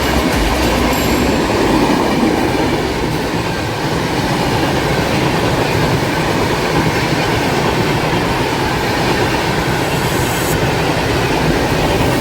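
Train no. 03327, the Dhanbad to Mumbai LTT summer special, rolls past with a loud, continuous rumbling roar and steady rail noise of its cars, close and sustained throughout.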